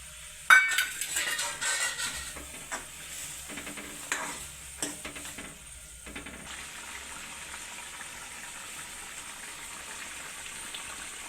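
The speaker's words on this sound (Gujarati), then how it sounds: "હાલો આંધણ આવી ગયું છે તો આપણે સિંગ ભજીયા નાખી દેવાના છે એમાં" Peanut fritters dropped into a boiling curry base for a Kathiyawadi-style dish: a splash and clatter, then bubbling and stirring noises that settle into a steady, soft simmering hiss.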